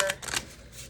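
Tarot cards shuffled by hand: a brief, crisp riffle of flicking card edges, close and moderately loud, with no talk.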